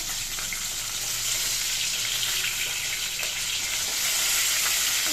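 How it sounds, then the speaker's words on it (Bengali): A hilsa fish head fries in a pan with a steady, close, continuous sizzle and crackle throughout, with no voices. "ইলিশ মাছের মাথা দিয়ে পুঁই শাক করবো তাই মাথাটা আগে ভেজে নিচ্ছি"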